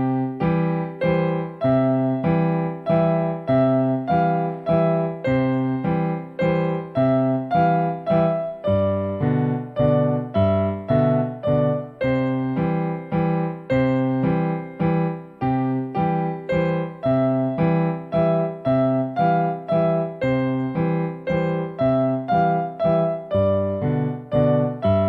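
A piano plays the Ukrainian folk song Pid dubi noju as a waltz in three, with a bouncing left-hand accompaniment under a simple melody, steady and clear with no talking.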